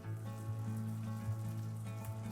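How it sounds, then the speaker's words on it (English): Scallops pan-fry with a soft, steady sizzle and low crackle, faint and close, with no voices over it. "almost like a bacon taste to them when they're pan fried"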